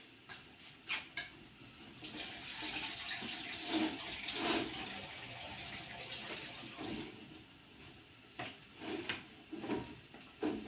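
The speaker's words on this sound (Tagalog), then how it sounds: "Dagdagan ko po ng konting tubig" Water poured into a cooking pot of sinigang soup in a home kitchen, a steady splashing wash with several louder surges and clinks, fairly faint, no talking.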